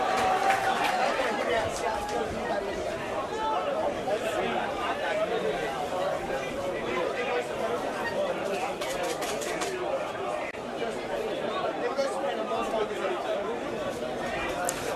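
Crowd at an Under 21 Statewide Cup Final football match during a corner kick, a steady murmur of chatter and scattered shouts throughout, with a commentator speaking over it.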